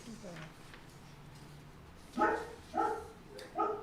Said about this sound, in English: The dog's objecting to what we're doing here.